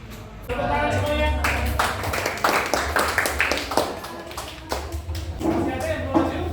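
Students clap together in a classroom during a history lesson, a dense patter of hand claps mixed with voices and chatter throughout.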